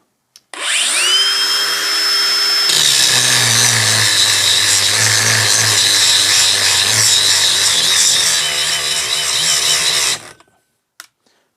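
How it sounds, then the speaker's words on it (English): An angle grinder fitted with an old Ryobi disc spins up with a rising whine, then bites into metal for a loud, steady, grinding roar lasting several seconds before cutting out abruptly, close and alone. "We will use the old Ryobi disc that I've got on both grinders to give them the test."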